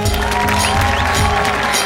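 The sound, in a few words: loud applause from studio audience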